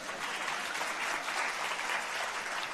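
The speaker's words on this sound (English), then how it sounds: "Why do you clap?" An audience at a talk breaks into brief, steady clapping, a dense even patter heard alone at moderate volume.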